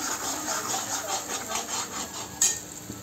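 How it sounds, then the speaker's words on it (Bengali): Ground peanut, ginger and green chili paste is stirred and fried in a wok, giving a steady soft scraping sizzle with occasional louder utensil knocks against the pan, and no talk. "এবার ওটা কড়াইতে দিয়ে ভালো করে একটু কষিয়ে নিচ্ছি"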